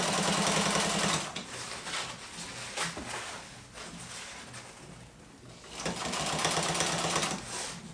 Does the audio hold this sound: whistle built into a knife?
no